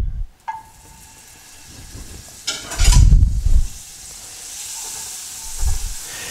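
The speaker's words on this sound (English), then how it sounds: "So I'm going to add to this pan butter." Butter hitting a hot pan for searing gives a sharp hiss that swells into a loud, crackling sizzle midway, then settles to a steady lower fizz with another brief flare near the end.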